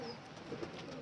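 Pigeons kept by a fancier coo softly in a short, continuous murmur of overlapping calls, fairly close and steady throughout with no voices.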